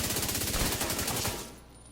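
Assault rifle firing in The Division 2, a rapid sustained burst of shots at an even rhythm, loud and close, stopping abruptly after about a second and a half.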